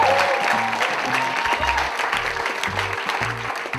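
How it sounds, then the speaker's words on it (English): Sustained applause from a comedy club audience greeting a stand-up comedian, dense and steady throughout with a low rhythmic musical beat underneath. "Give a big round of applause for Mark Norman,"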